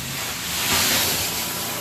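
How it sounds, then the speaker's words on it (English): Steam carpet cleaning machine working a carpet edge, a loud, continuous broadband hiss and rush that swells briefly in the middle. "Take your time steaming that edge there."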